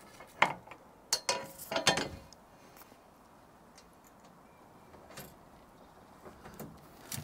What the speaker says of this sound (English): Now we'll see if John's long spanner we'll get on the bottom of there